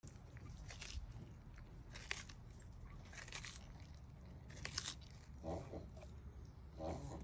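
Soft, irregular crunching and chewing bites repeat close by as pets eat crunchy bell pepper, over a low background rumble, with occasional wet munching sounds.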